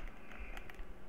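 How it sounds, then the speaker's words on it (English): Rapid keystrokes on a computer keyboard, a steady run of soft clicks close by, with no talk and a light hum underneath. "Just type in DS3 in the search bar"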